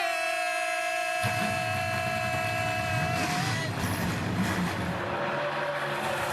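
Pack of NASCAR O'Reilly Auto Parts Series race cars at COTA in Austin, Texas roars to life, a sudden loud broadband surge of engines that cuts in after a brief tonal lead-in and holds as a dense continuous drone.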